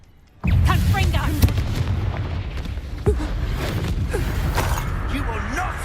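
A Confringo blasting spell erupts in the Hogwarts Legacy video game, a sudden loud boom that gives way to a sustained, chaotic roar of combat effects, with a second impact partway through and voices mixed in.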